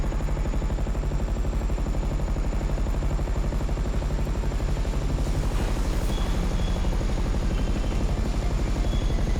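A Savage attack helicopter, a Soviet Mi-24 Hind type, in GTA 5 gives a loud, close, continuous rotor thump with a steady turbine whine, unbroken and alone throughout.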